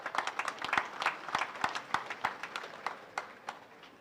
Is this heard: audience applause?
yes